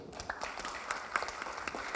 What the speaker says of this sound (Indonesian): Tepuk tangan dulu juga boleh.